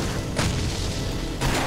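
Explosive-shot skill firing in the Torchlight action RPG: two short booming bursts about a second apart, loud and broadband, with no talk over them.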